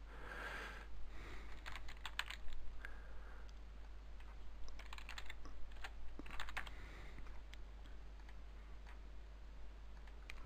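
Steady typing on a computer keyboard, with light, irregular clicks and short bursts of keystrokes over a low hum, close and fairly quiet.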